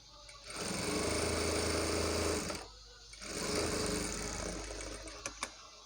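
A sewing machine stitches blouse cloth in two continuous runs of fast, even motor whirring and needle clatter, separated by a short pause, with a couple of small clicks near the end.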